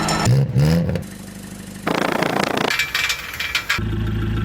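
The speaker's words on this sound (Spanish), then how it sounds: "Es común que detectes que el escape de tu carro suena raro." A car with a damaged exhaust accelerates, giving loud, rough revving bursts broken into short segments with a rattly, uneven exhaust note.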